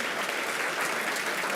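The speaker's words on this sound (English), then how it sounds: "Stop clapping." Brief burst of audience applause at a sustainability summit, dense and even clapping filling the whole moment.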